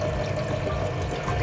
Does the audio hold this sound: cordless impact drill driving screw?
no